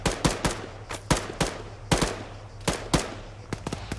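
Rapid rifle fire cracks in a military shooter game, loud close shots in irregular bursts and single rounds, one echoing volley after another with no voices.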